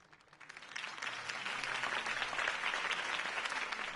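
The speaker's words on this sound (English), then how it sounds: "If only Mr. Wayne, my campaign's largest backer, could have heard that applause" Applause from a large crowd swells within the first second and holds as a dense, sustained roar of clapping.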